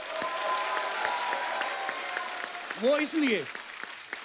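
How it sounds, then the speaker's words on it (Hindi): A studio audience on a television comedy talk show claps loudly for a film actor, continuous applause that fills the clip while voices speak briefly over it near the end. "अजय सर के लिए एक बार जोरदार तालियां बनती हैं।"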